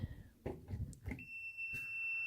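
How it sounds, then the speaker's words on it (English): A Honeywell Econoswitch RPLS740B plugged into a live outlet gives off a constant steady beep. The tone starts after a few handling clicks and knocks and then holds, clear and sustained. "So you get a constant beep, meaning you have power coming in the outlet."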